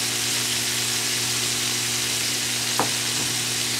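Spaghetti puttanesca sauce with capers and anchovy sizzles in a pan, a steady close frying hiss with a brief clink near the end.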